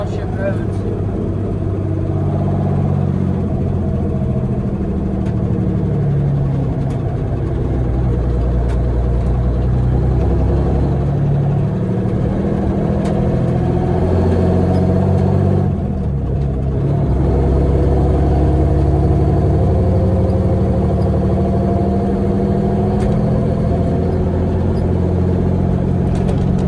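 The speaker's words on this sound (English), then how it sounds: "With the bumps, you guys can just see how old Blue rides." An old pickup truck called Blue rides over bumpy township roads. It gives a continuous low engine drone and cabin rumble with rattles, and a dip in the noise partway through. Voices can be heard faintly at times.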